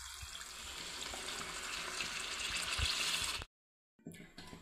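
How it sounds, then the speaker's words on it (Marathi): Hot water pours into tomato gravy for a shev tomato bhaji, a steady, close splashing stream for about three and a half seconds, then a short silence before softer liquid sounds resume. "याच्यामध्ये आपल्याला आता पाहिजे तेवढं पाणी टाकून घ्यायचं आहे आणि पाणी गरमच घ्यायचं"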